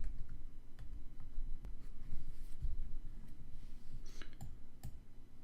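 A computer mouse clicks scattered through a quiet room while an online store is set up, faint sharp ticks over a low background rumble.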